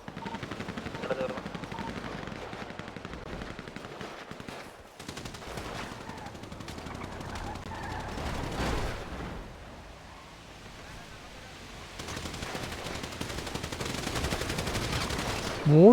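Rapid gunfire bursts from a video game gang war crackle through a dense, noisy mix, continuous over most of the stretch with a dip in the middle and louder volleys toward the end.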